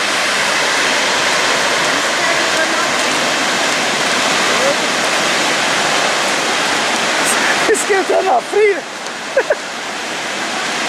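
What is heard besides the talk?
water rushing out near a waterfall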